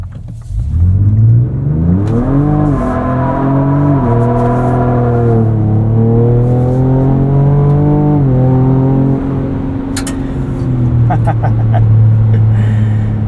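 A 2024 Ford Ranger Raptor pickup driving with the differential locked, its engine droning loud and steady from inside the cab, rising and falling as it revs through gear changes.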